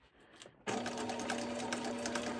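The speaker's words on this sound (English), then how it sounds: "put your machine on a wide zigzag stitch" Sewing machine running a wide zigzag stitch to sew a piece onto a baby outfit, starting abruptly after a short quiet lead-in and then whirring steadily and loudly with a rapid mechanical chatter.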